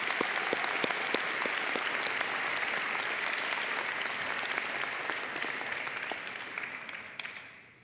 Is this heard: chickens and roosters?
no